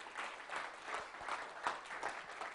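Applause from a conference audience after a talk on analytics and strategy, a steady, moderately faint patter of many hands clapping throughout.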